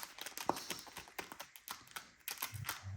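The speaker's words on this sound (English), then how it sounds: "I'm going to shuffle these." Final Fantasy trading cards shuffled by hand, heard as a quick run of crisp papery taps and riffles that comes close and fairly soft, with brief pauses between bursts.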